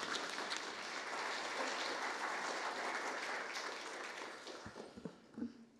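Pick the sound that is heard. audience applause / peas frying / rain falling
audience applause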